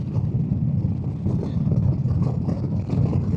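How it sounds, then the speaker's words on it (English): A motorcycle engine revs high and steady, its rough drone rising and falling slightly with gusts of wind noise over the microphone. "I've been high revving the engine"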